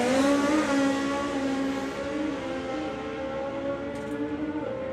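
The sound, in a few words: drag racing car running down the track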